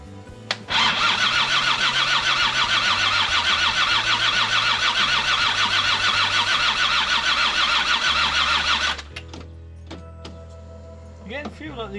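A Land Rover TD5 diesel engine cranks after a cylinder head refit, the starter churning rhythmically and loud for about eight seconds without catching, then stopping abruptly, with voices and clatter afterward.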